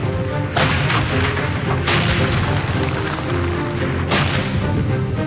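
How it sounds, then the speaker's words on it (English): Soviet artillery guns firing in a dense, continuous barrage, loud and close, with several heavier booms standing out over a constant roar of gunfire. "Soviet guns opened up"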